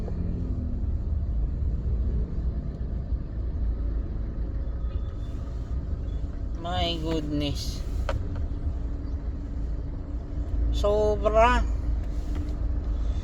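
Heavy road traffic rumbles steadily in a deep low drone, with a vehicle surge near the end, while a person talks over it in short bursts.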